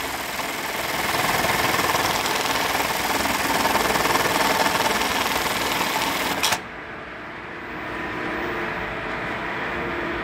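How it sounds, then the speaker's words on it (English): A Brother LK1900BN tacking machine sews a star pattern in one clamp, a dense steady mechanical whir running loud and continuous, then dropping to a quieter hum partway through. "we're going to do this pattern in the same clamp,"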